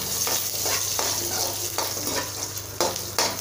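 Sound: sautéing pepper, garlic and shallots in oil

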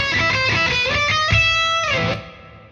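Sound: guitar with Lexicon PCM 96 large hall reverb

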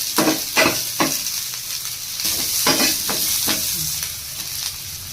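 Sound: frying and stirring in a pan for barley bisibele bath

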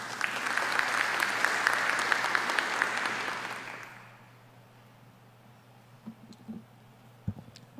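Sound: audience applause

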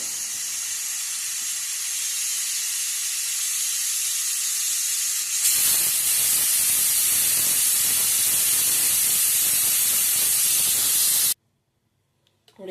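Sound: pressure cooker releasing steam

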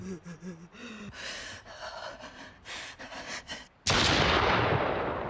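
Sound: gunshot in the video game The Guest

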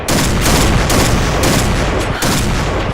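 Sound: gunfire in a video game

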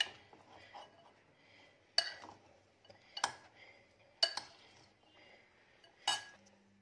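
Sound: mixing sweet corn salad in a bowl

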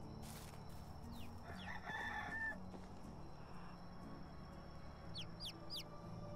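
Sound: rooster crowing in the video game Medieval Dynasty

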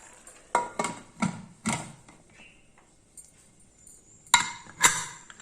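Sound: pressure cooker lid being closed

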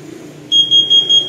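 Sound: smoke alarm sounding

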